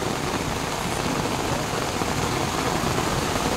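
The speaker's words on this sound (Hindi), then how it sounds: "तो दिखा रहा था कितना बारिश हो रहा है, पूरा नदी की तरह बह रहा है गाइस।" Heavy rain pouring down while water runs along a street like a river, a dense, steady roar of downpour that fills the whole stretch without pause.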